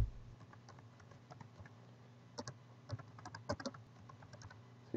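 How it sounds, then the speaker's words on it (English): Computer keyboard keys tapped in short irregular bursts while a student ID and password are entered at a library login, close and moderately quiet, with no talking. "You type in your student ID and your password, and you click login."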